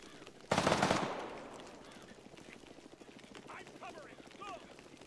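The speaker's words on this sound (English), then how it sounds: "Might be our gunship." Gunship helicopter in the video game Arma, over Chernarus: a sudden loud burst of gunfire or rotor blast opens, then fades into a low, steady rhythmic thumping and distant chatter, with faint crackly radio-like tones near the end.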